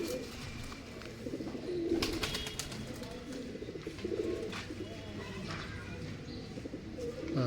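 Red-eyed Kasuri pigeons coo softly in a loft, with repeated low throaty calls rising and falling over faint background chatter and rustling.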